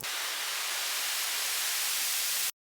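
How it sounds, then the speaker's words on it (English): A white noise riser from a house music production sample pack: a dense, steady hiss that fills the upper range for about two and a half seconds, then cuts off abruptly into silence. "you've got your up white noise"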